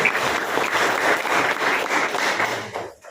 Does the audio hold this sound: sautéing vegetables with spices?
no